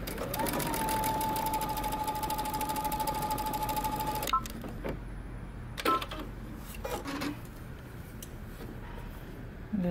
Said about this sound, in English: we're going to stitch using 5/8 of an inch seam allowance